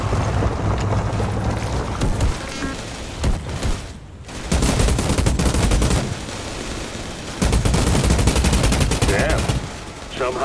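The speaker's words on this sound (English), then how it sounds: "I just shoot it with my gun?" Rapid automatic gunfire in the video game Outriders, loud bursts of shots with a brief lull near the middle, continuing in dense volleys until the end with some background rumble.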